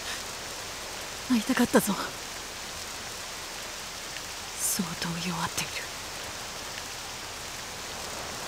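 Steady rainfall in the video game Octopath Traveler II, a soft continuous hiss of rain filling the scene, with two short bursts of spoken dialogue over it.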